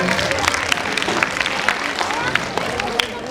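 A school annual function audience claps for prize winners, producing a dense, lively burst of applause with sharp individual claps. Crowd murmur and background voices run underneath throughout.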